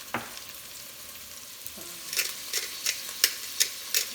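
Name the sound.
vegetables sauteing with carrots in a pan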